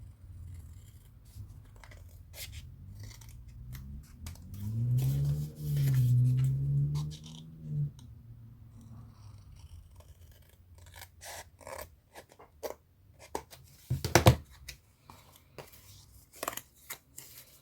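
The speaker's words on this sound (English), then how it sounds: "then I'm going to cut these ones off because I want this one to flip as well" Scissors snipping paper pieces off a journal page, scattered crisp cuts and rustles, close and mostly faint, with a low hummed voice briefly in the middle and a louder clatter near the end.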